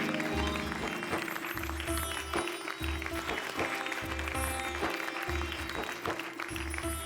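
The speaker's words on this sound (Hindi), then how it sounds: "भाई ऐसी महान आत्मा के लिए एक बार जोरदार तालियां" Audience clapping during a Hindi TV sitcom scene, sustained applause layered over a rhythmic music track with a steady beat throughout.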